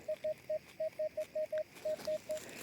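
A metal detector sounds its tone over a buried find while someone searches the overgrown thickets of Poltava region: a clear run of about a dozen short, evenly spaced beeps in a steady rhythm, with quiet rustling between.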